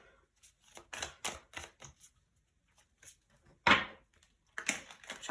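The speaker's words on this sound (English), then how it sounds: "Shuffling it good." Tarot cards shuffled by hand in a series of short papery riffles and taps, close and moderately loud, with a sharper burst near the end and brief pauses between strokes.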